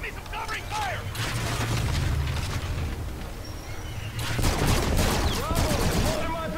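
Dense, sustained gunfire and explosions in the futuristic shooter Call of Duty: Infinite Warfare, with rapid bursts and booms at close range, while voices shout over the combat.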